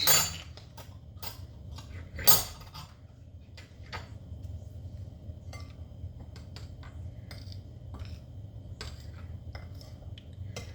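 Almond flour cookie ingredients being stirred in a bowl, with light scattered clinks and taps of a utensil against the dish, quiet and irregular, mostly without talk.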